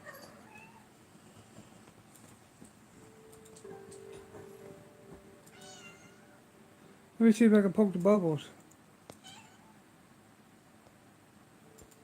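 A house cat lets out a loud, insistent run of meows, about a second long, in a quiet room, with a person speaking softly before it.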